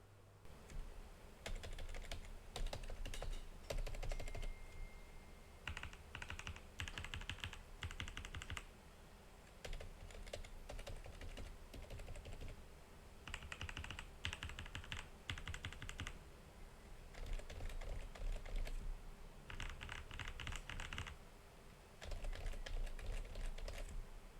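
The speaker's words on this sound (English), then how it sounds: "it is quieter than your average mechanical keyboard" Steady typing on a soft, muted Acer SK-9610 rubber dome keyboard, keys pressed in bursts with brief pauses between them, close and fairly quiet throughout.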